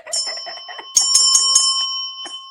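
Small hand bell rung in quick bursts, bright metallic rings with a lingering tone, loud and close, alone without any talking.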